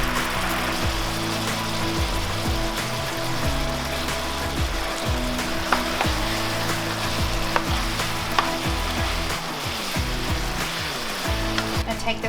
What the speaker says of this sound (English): simmer for about 3 minutes until it starts to thicken